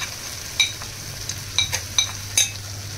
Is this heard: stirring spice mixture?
yes